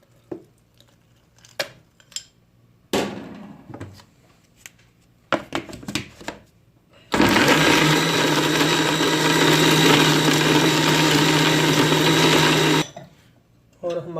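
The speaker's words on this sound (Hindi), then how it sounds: "तो इसको थोड़ी देर के लिए ग्राइंड करते हैं।" A blender grinds kiwi for juice: after a few taps and clinks, the motor roars on loud and steady for about six seconds, then stops abruptly, with some clatter before and after.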